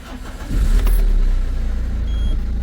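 A diesel Citroën Berlingo HDi 90 with Siemens injectors cranks briefly and catches, then settles into a steady, close idle rumble with a slight uneven pulse, no talking.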